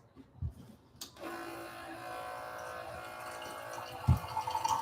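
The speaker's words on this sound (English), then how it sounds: "I'm just filling up the pitcher" Water pours from a kitchen tap into a pitcher in a kids' kitchen, a soft steady trickling stream that starts after a click and runs for several seconds at close range, fairly quiet, with a small knock near the end.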